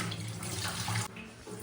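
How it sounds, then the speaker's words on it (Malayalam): Dried salted fish rinsed under a running kitchen tap, a steady close rush and splash of water into a sink that briefly changes tone near the end. "രണ്ടാമത്തെ പ്രാവശ്യം രണ്ടാമത് നന്നായിട്ട് കഴുകുക."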